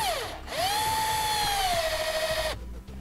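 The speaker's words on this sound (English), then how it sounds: "We'll need a Phillips bit screwdriver to run the screws in." A Phillips bit screwdriver drives screws into a small metal bracket while a Tekonsha Prodigy P3 trailer brake controller is mounted. The power driver whines up in pitch, spins steadily for about two seconds, then stops abruptly.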